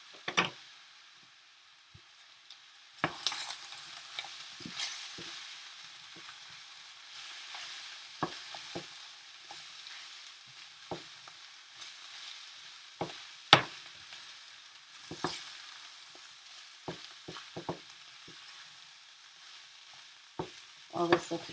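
Ground turkey, sweet potato and zucchini get tossed in a skillet, with scattered knocks and scrapes of a utensil against the pan over a quiet, low sizzle, close up and without voices.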